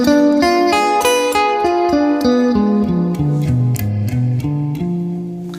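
A dominant seventh flat nine chord played on a pitched instrument as a clean, sustained sequence of notes stepping downward and back up, loud and close with no talk.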